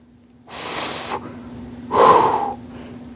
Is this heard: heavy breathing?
yes